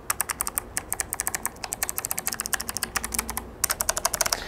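Rapid typing on an MSI GK50 keyboard with low-profile mechanical switches and an aircraft-grade aluminium frame, a dense run of crisp, clicky keystrokes close up with a few brief pauses and no talking.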